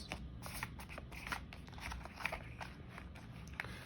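Tarot cards are shuffled and sorted by hand, a quiet run of rapid papery flicks and soft slaps, close up with steady rhythm and no talking.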